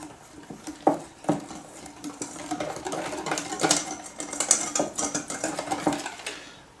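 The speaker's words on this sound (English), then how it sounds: "And give it a good whisk." Irregular clinking and scraping of a whisk beating a slurry of sugar, custard powder and milk in a bowl for a Christmas trifle, quick metallic taps and swishes heard close up.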